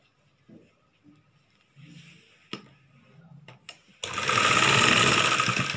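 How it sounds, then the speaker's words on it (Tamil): A sewing machine stitching a folded chudidar top. Soft handling clicks and rustles come first, then the machine starts up close and loud, running in a steady, continuous whir to the end. "இப்போ வந்து நம்ம இதை மடித்து தைப்போம்."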